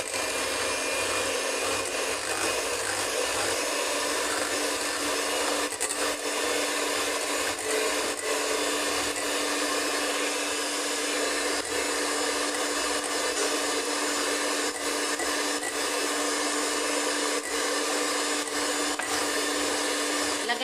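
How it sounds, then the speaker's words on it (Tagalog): An electric mixer beats egg yolk with baking powder for a strawberry cheesecake, a loud, close, steady whirring drone that runs without a break. "Mix muna natin ang ating egg yolk."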